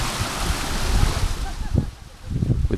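Rushing water, like surf or a stream, out in the Shropshire hills, a steady broadband wash that dips briefly near the end before swelling again, with faint voices mixed in.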